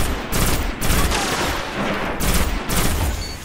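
Rapid gunfire from a laser-type weapon in the Destiny video game, a dense continuous barrage with brief pulsing bursts, loud and close throughout with no talking.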